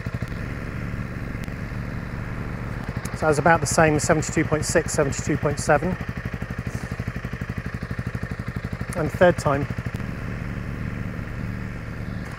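A stock exhaust on a Honda CRF300 Rally motorcycle blips up from idle in a short burst of revs, then a second brief rev, measured close behind the tailpipe with a person talking over the engine.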